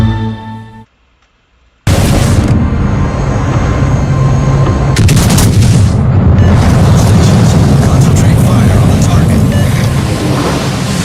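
A battleship being sunk erupts in a huge explosion after a brief near-silence, the blast becoming a loud, sustained booming roar of rumbling debris with a sharper burst midway.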